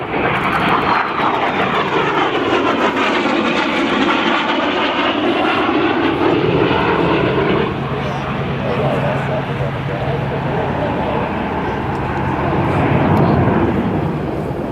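A Harrier jump jet flying at an air show, its heavy engine roar loud and continuous, rising and swelling over about fifteen seconds while an announcer talks over it.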